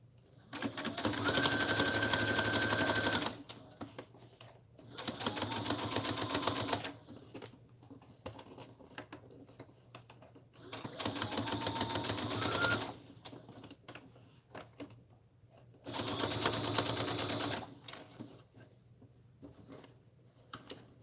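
A sewing machine runs in four steady bursts of rapid stitching, pausing between each, as the lining of a beginner trench coat is understitched up close.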